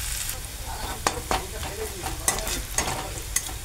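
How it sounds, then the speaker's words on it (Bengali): Onions frying in oil until nearly browned, a loud continuous sizzle close by, broken by several sharp clacks of a spatula stirring the pan. "পেঁয়াজটা প্রায় ভাজা ভাজা হয়ে এসেছে"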